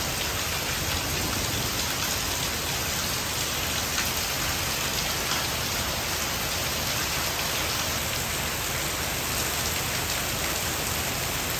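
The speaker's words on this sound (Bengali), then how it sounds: "দেখতেই পাচ্ছেন অত্যন্ত চমৎকার বৃষ্টি হচ্ছে" Heavy, steady rain pours down continuously in a village, a dense even hiss of drops on surfaces, with no voices or other sounds.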